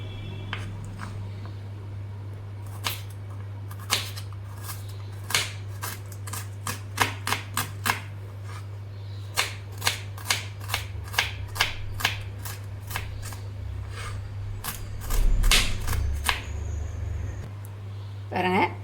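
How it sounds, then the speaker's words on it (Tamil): A knife taps quickly and rhythmically on a cutting board while small shallot onions are chopped into tiny pieces, close and crisp, in irregular bursts of clicks with a steady low hum underneath. "நான் சின்ன வெங்காயம் உரித்து வச்சுருக்கேன் இதை குட்டி குட்டியாக கட் பண்ணிப்போம்"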